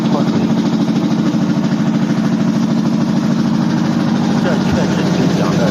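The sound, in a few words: front-loading washing machine spinning with loud tractor-like noise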